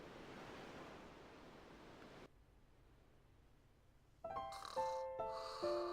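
Snoring while resting at the inn in Final Fantasy X: a soft, steady breathy rush for about two seconds, then near quiet, followed by a bright musical jingle.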